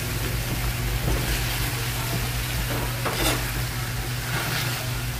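Squash sautéing in a pan, a steady close sizzle with stirring scrapes throughout over a low continuous hum, no voices.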